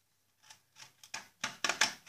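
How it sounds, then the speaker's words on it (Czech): Scissors snipping a rough rectangle out of ordinary paper, close and crisp, in about eight quick separate cuts that speed up toward the end with no talking. "A teď si vystřihnu zhruba Obdélník z normálního papíru."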